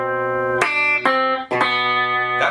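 A distorted electric guitar plays a tense flatted-ninth harmony, four sharply struck, sustained chords in quick succession, loud and alone.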